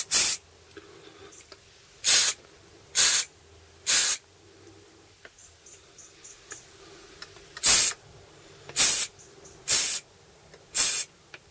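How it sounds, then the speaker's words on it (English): Compressed air hisses onto a seized motorcycle brake in seven loud, close bursts of about a second each, separated by quiet gaps. "Get a bit of air. Compressed air"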